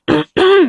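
Two quick throaty rasps, a short one then a longer drawn-out one, close and loud, like someone clearing their throat.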